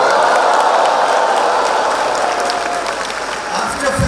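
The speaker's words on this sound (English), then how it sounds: "Come on a count of 3, 2, 1, oh, and claps together." Audience at a school cultural day claps together in a sustained, dense burst of applause that fills the room, steady and loud throughout with a faint voice mixed in.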